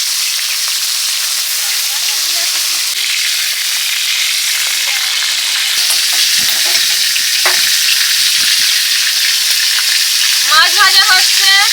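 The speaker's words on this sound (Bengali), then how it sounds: "সর্ষের তেল দিয়ে দিচ্ছি মাছ ভাজার জন্য" Snakehead fish frying in mustard oil in a home kitchen gives a steady, loud crackling sizzle throughout, with sharper pops and spattering bursts toward the end.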